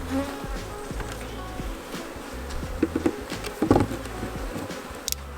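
Honey bees buzz around an open beehive during a Minnesota hive inspection, a steady close droning hum with individual bees flying past the mic.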